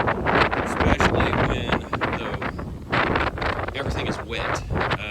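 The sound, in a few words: strong wind blowing outdoors on a farm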